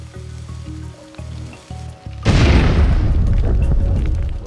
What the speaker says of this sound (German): Können wir wenigstens da diese Lore sprengen.